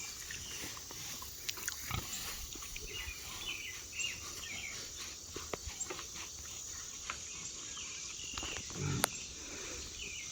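Pigs in a farm pen give soft, scattered grunts at a distance, over quiet outdoor ambience of insects and occasional bird calls.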